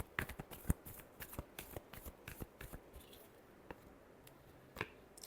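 Playing cards are shuffled for a tarot-style reading, making a rapid run of close, crisp riffling flicks and slaps with no talking.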